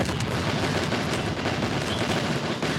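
Rapid, dense M12 gunfire from the Stick Fight video game rattles on continuously at close range, loud and unbroken.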